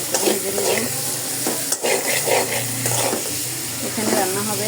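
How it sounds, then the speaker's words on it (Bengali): Potatoes fry in hot oil with panch phoron while a spoon stirs them, producing busy scraping strokes over a constant close sizzle, with a low voice faintly in the background. "এখন ওই তেলে পাঁচফোড়ন দিয়ে আমি দিয়ে দিলাম আলুগুলো"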